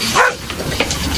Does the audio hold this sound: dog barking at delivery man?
yes